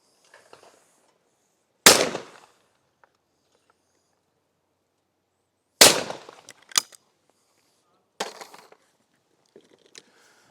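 Shotgun blasts ring out at sporting clay targets outdoors: a single sharp report, then a pair of shots a second apart, then another, each decaying quickly into quiet open air.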